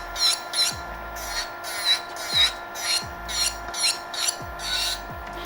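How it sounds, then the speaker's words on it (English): Carbide nail drill bit filing an acrylic nail, giving a series of about ten short rasping, whirring strokes in a steady rhythm, close and moderately loud with no talking. "what I'm doing as I pull through with my carbide bit is just making contact and pulling it all the way through"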